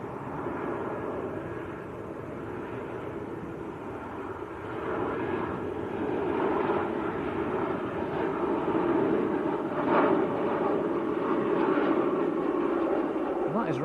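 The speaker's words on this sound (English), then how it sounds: "That is Ryanair from Prague, down with a bit of a bump. Solid landing." A Ryanair airliner arriving from Prague lands at Manchester Airport, a steady engine rumble that swells gradually and stays prominent throughout, heard at a distance.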